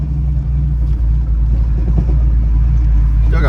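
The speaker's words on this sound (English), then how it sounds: "Still got a broke muffler" 1968 Pontiac Firebird convertible with a broken muffler running nearby, giving a loud, raw, continuous low rumble with slight fluctuations and a brief rise at the very end, and no talk.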